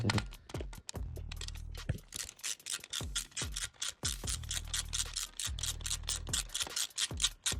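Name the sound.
unscrewing scooter exhaust bolt with small ratchet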